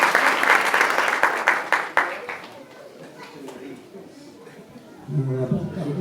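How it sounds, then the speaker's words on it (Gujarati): An audience at a Swaminarayan temple event in Vadtal applauds, a burst of dense clapping that fades within a few seconds, followed by a speaking voice. "જોરદાર તાળીઓથી વધાવી આપો"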